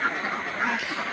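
Ducks quacking inside a duck shed during a duck plague outbreak, a steady noisy flock close by, with a voice partly audible over the birds.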